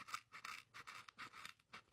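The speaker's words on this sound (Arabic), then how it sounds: "حجرب بالمقص" Scissors snipping through a fried tarantula, with about eight quick, crisp crunching cuts in an uneven rhythm, close up and distinct with no talk.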